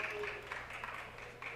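A lone person clapping at the back of a city council meeting, a few faint, light claps heard over room hum and a murmuring voice.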